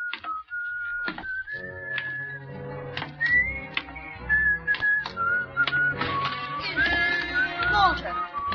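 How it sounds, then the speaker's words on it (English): A man whistles a lilting tune in a 1940s radio suspense drama, the bright wavering melody carrying over a soft background bed with occasional sharp effects and brief voices around it. "You still remember my whistle, eh?"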